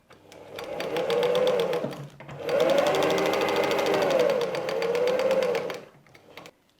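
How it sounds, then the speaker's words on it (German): Sewing machine stitching along the perforated line of paper-pieced patchwork fabric, two rapid, steady bursts of needle chatter with a short pause between, close and clear. "Stecken das noch einmal fest und nähen nun genau auf der perforierten Linie."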